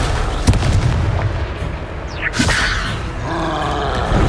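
Confringo fire spell blast in the Hogwarts Legacy game, a loud booming burst over steady game music and ambience, followed by a whooshing streak and a second crackling impact.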